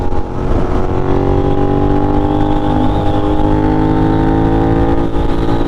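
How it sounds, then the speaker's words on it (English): A Suzuki SV650 motorcycle ridden at night through New York City, its engine a loud, close, steady drone with layered tones that drift slowly upward in pitch as it pulls along. "this bike is basically a very nice sounding sound machine"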